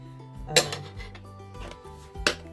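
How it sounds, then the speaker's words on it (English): A knife cuts through an onion on a board, giving two sharp, close chops about two seconds apart against a quiet background with faint kitchen tones. "So I will cut the onion into very thin pieces."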